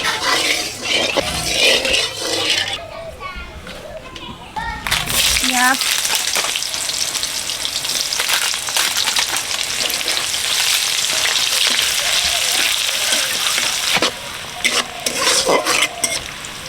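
Egg sizzles loudly in hot oil in a pan for an Indian-style egg and ash gourd curry, a close, continuous crackling fry with utensil scrapes and a brief voice partly under it.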